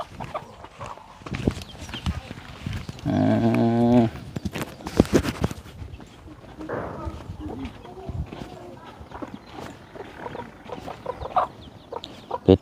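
Chickens clucking and a rooster-like call on a farm, heard amid people talking and footsteps, with a loud harmonic squawk standing out briefly near the middle.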